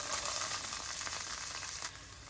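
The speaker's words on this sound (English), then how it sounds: "we are just going to saute this until the onion is a little bit translucent and soft" Onion sizzles in olive oil and butter in a hot pan: a steady, close, crackling fry that eases slightly at the end, with no voices.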